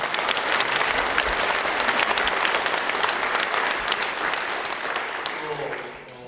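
A church congregation at a pastor's installation service in Yeongdong Church breaks into loud, sustained applause that fills the hall and then tapers off toward the end.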